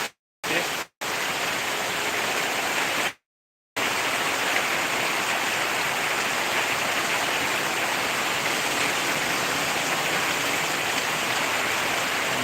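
Heavy downpour of rain, a dense, even roaring hiss that fills the whole stretch after a couple of brief silent gaps at the start, with no voices heard.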